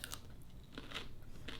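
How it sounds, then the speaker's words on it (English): Crunchy bites and chewing on fresh cucumber, close to the mic, with several crisp bursts spaced irregularly over a low steady background hum. "I'm chewing on a cucumber as I film this."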